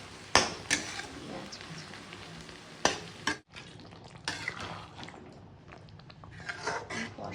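A new wooden spatula stirs coriander paste in a nonstick wok, giving sharp clacks and scrapes against the pan over a soft frying sizzle, irregular and close, with no talking.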